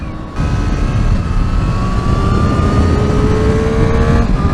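A 2023 Triumph Street Triple R motorcycle engine revs hard and loud during a wheelie on an open road, a steady, rising high-pitched roar close to the rider, with no talking.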